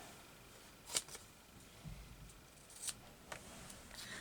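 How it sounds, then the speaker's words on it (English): Scissors cutting out a paper piece for a nature journal, a few quiet separate snips spread over a few seconds against a soft background hiss. "I'll just cut this bit out."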